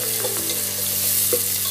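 Onions softening in hot oil in a pan, stirred as they cook for a Filipino sautéed vegetable dish; a steady close sizzle with scraping stir strokes, no talk.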